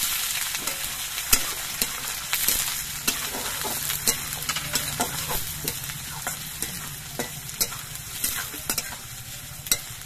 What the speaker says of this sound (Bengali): এবার পেঁয়াজগুলো আমি কিছুক্ষণ ভেজে নেব